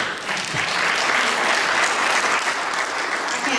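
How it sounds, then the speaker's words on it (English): An audience at a lecture on mass incarceration breaks into loud, dense clapping, a full continuous roar of many hands holding steady for several seconds without talk over it. "I can't tell who's clapping,"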